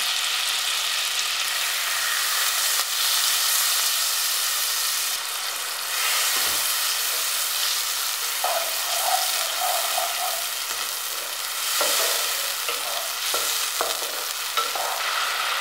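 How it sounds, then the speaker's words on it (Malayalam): A star fruit pickle mixture with vinegar and water boils and sizzles steadily in a pan, a continuous bubbling hiss with occasional louder pops and stirring scrapes, with no talking. "ഇതെല്ലാം കൂടെ തിളച്ചിട്ടുണ്ട്"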